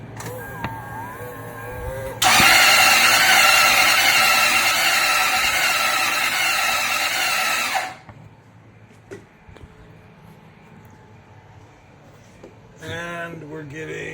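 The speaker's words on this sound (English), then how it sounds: "Now we're going to go crank it over right now and then take a look at the pressure." A Toyota Sequoia engine with overheating damage is cranked over on the starter during a compression test, a loud, steady whirring drone lasting several seconds that cuts off abruptly, followed by quieter shop noise.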